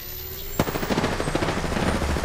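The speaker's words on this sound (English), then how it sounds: "I shot at an enemy shield." Rapid automatic gunfire in a battle-royale style shooter, a sharp opening shot followed by a dense, fast stream of loud reports fired at an enemy's shield, heard alone without talk.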